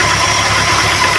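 A Datsun 1200 engine idles steadily after a repair, having failed to idle for months; its close, even mechanical hum and low rumble stay constant throughout with no voices.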